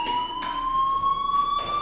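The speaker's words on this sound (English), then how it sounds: "do you hear that fire alarm? That means you should be outside" A fire alarm in Life Is Strange sounds a loud, steady electronic tone that slowly rises in pitch, with soft pulsing bursts of noise beneath it.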